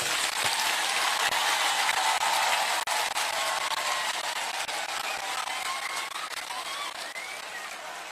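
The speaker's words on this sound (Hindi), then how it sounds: "सबसे बड़ा ताली आपको होना चाहिए" Sustained audience applause fills the room from start to finish, a dense even wash of many hands clapping at close range, tapering slightly toward the end with no voices over it.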